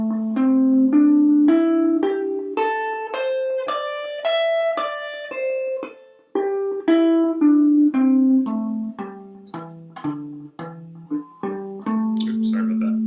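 Guitar notes from a minor pentatonic scale shape, played one at a time as a steady ascending then descending run with a brief gap midway, clear and close with no talking.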